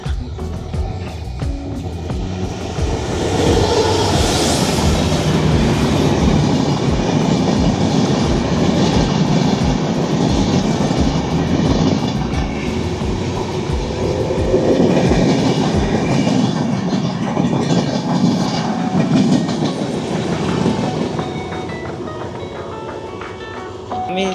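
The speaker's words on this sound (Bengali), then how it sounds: "এই যে ট্রেন আসছে এখানে" A train rumbles loudly and steadily into Nimtala railway station, wheels clattering on the rails, with faint voices mixed into the din.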